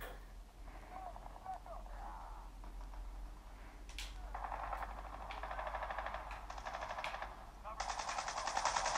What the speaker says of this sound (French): je vous montre un petit peu le tir au jugé